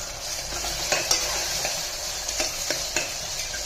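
Mutton curry with mint, ginger and garlic being stirred in a hot pan, a steady broad sizzle with a few sharp scraping clinks of the spoon spread through the frying, no voices.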